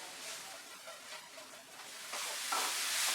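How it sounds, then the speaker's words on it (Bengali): Shredded cabbage frying in a pan over a medium-high flame, a faint soft sizzle with light stirring that grows brighter and louder toward the end. "আমরা মিডিয়াম টু হাই ফ্লেমে রেখে ফ্রাই করব।"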